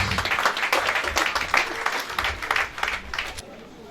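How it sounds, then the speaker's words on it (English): Applause at a memorial mass: a crowd clapping steadily at moderate volume for several seconds, then tapering off near the end. "Please, another round of applause"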